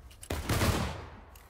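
Musket fire in the Civil War shooter War of Rights, a single sharp loud shot with a rolling, booming tail that decays over about a second, with faint distant shots around it.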